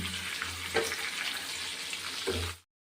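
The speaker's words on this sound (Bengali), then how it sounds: "এই দেখো এখানে আমি বেগুনটা ভেজে নিচ্ছি" Eggplant frying in a pan gives a steady, close, watery sizzle, with a low hum underneath and a couple of soft knocks before the sound cuts off abruptly.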